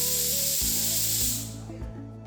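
Steam hisses steadily from a pressure cooker as its pressure is released, a broad bright rush that runs loud for over a second and then fades, with a few low knocks and a steady hum beneath.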